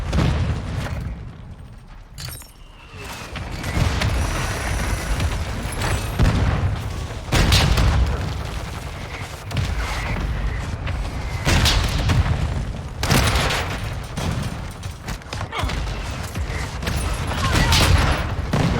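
Mortar strike explosions in Modern Warfare 2, a long stretch of heavy booms and rumbling impacts recurring every few seconds over dense battlefield noise, with some voice comms mixed in.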